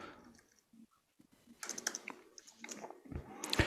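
Light typing on a computer keyboard while entering names into a social media list, soft irregular key clicks that grow busier and louder toward the end, with no talking.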